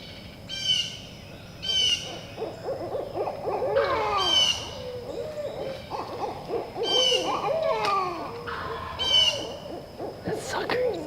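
Several owls hoot back and forth in repeated rhythmic calling phrases, moderately close outdoors in woodland during a turkey hunt, with other birdsong and calls mixed in between.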